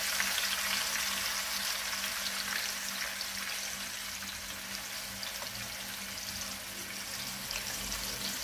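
Ground garlic and ginger fry in about two cups of hot oil for a sarson ka saag tempering, giving a steady, quiet sizzle with a faint low hum beneath.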